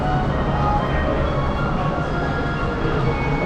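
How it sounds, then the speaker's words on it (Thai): Hong Kong tram rolling along during a sightseeing ride, a steady, loud, continuous rumble of wheels and car noise with no clear breaks. "นั่งรถรางชมวิว"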